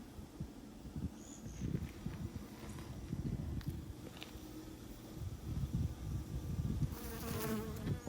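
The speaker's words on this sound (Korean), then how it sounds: "꿀벌들이 열심히 자기 역할을" Honeybees buzz steadily around cherry blossoms in spring, a close, continuous hum that swells and fades as individual bees pass near, with faint rustling beneath and no talking.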